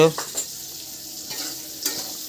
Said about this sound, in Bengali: এখানে সকাল সকাল মা রান্না করছে দেখতেই পাচ্ছ